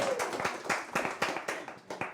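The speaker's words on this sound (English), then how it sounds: "We can applaud for that." Scattered hand claps at an awards ceremony, the Golden Lock Awards, form a light, uneven ripple of applause from a small audience, moderately close, with no talk.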